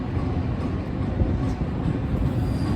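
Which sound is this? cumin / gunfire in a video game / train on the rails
train on the rails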